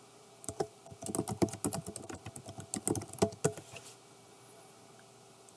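Rapid keystrokes on a computer keyboard as a login ID is typed, a close burst of clicks lasting about three seconds and then trailing off into quiet.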